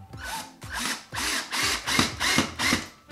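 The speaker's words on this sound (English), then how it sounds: "make sure y'all don't go all the way when y'all drill in" A power drill drives screws into wood for a DIY overhead camera rig, whirring in six short, evenly spaced bursts, close and fairly loud.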